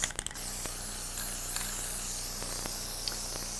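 Aerosol spray can sprayed evenly over artificial Christmas decorations, a steady, close hiss running throughout after a few brief clicks at the start, with faint ticking over the constant spray.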